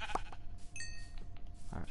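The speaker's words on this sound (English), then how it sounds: "Ooh, sheep." A Minecraft sheep gives a single short, wavering bleat at moderate volume, set against quiet game background sounds.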